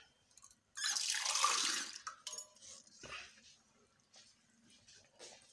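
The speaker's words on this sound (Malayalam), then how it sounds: "കുറച്ച് വെള്ളം ഒഴിക്കണല്ലോ," Water poured into a pot of river fish curry being made with coconut milk, a close splashing gush lasting about a second, then fading to softer trickles and drips.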